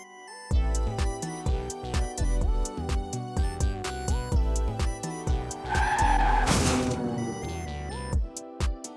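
Hot Wheels toy cars race down a track in a dense run of sharp plastic clacks and rattles that peak in a brief screeching burst before a few last clicks.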